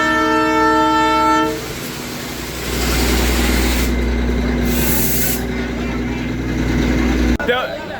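The Darjeeling toy train sounds a loud, sustained horn blast up close. The steady rumble of the engine and carriages follows and runs throughout, with a brief clatter near the end.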